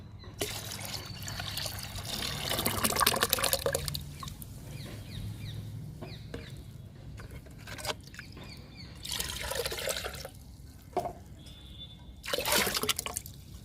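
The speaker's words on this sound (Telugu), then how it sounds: "ఇది టీ పొడి ఎగ్గు పొడి అండి నాలుగు రోజులు అవుతుంది నానబెట్టి ఈ లిక్విడ్ని కూడా కలుపుతున్నాను" Soaked tea powder and egg powder liquid fertilizer being mixed, with wet trickling and sloshing that comes in a few separate bursts at close range.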